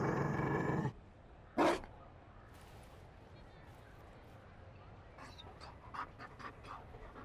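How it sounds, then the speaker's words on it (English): A Mabari war dog in Dragon Age: Inquisition pants in a short, close burst near the start, followed by a quieter stretch with scattered faint game sounds and small clicks. "You found a dog? They don't breed Mabari in Orlais."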